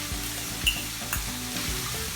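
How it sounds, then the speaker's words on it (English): Onions sizzle in olive oil in a pan, a continuous close crackle of frying with a few soft stirring knocks and scrapes, no talking. "going to pour the olive oil into a pan, and we're just going to do a light saute just to soften them up"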